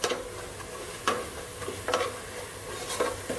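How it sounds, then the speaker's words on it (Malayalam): Coriander powder with a teaspoon of turmeric roasting in a pan for a Kuttanad-style duck curry: a soft continuous sizzle with repeated crisp spoon scrapes and taps at an uneven rhythm, close up. "മല്ലിപ്പൊടി ഒന്ന് മൂക്കണം."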